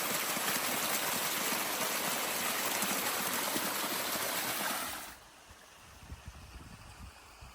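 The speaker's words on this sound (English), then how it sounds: "Seems to be the highest place that I could find the water coming out." Spring water pours steadily from a high source in the Grand Canyon along a backcountry trail, a loud continuous rushing splash that drops off abruptly near the end to a quieter, distant trickle.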